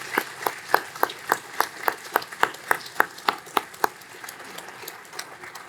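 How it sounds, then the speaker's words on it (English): Applause for nominees at a fall graduation ceremony, led by one nearby pair of hands clapping in a steady, even rhythm about a dozen times over softer scattered clapping, then stopping. "Please join me in giving a round of applause to all of these nominees"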